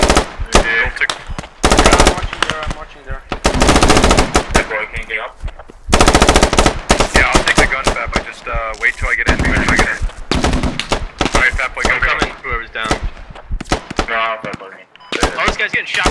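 Automatic and single gunfire in the military shooter Squad, loud, close bursts of rapid shots with separate volleys, mixed with voices talking over the combat.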